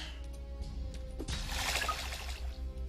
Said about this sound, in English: I like the water sound. It's so cool, but it's so loud.